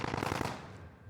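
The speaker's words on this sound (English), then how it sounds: "the gunshots go off in the distance to the south" A quick burst of rapid gunfire in the video game Warzone, several shots in a row from the distance, fading into a rumbling echo.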